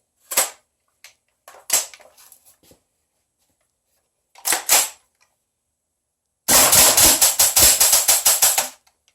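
S&T gas blowback airsoft rifle fitted with an AR15 buffer spring firing, a few isolated sharp cracks, then a rapid burst of around a dozen snappy shots that trails off, loud and close.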